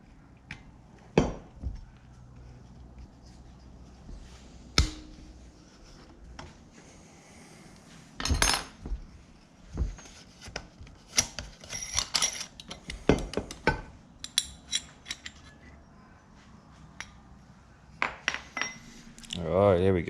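Tools loosen the top cap of a turbo wastegate on a VG30-engined Nissan Navara, making scattered metallic clinks, taps and scrapes close by, sparse at first and busier later, with no speech.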